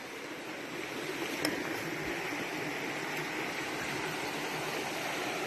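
High river water on the Appalachian Trail rushes in a steady, dense wash, constant and fairly close, with a small splash early on and no voices.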